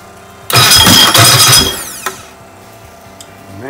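A cold Sprite race engine on race gas catches with a loud burst of firing, runs roughly for about a second, then dies back to a quiet room with faint ringing.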